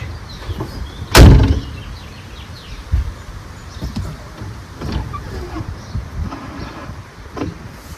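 A first-generation F-body car's power quarter window glass runs after regulator repair, with a sharp clunk early on and softer knocks and thumps scattered through the quiet whir.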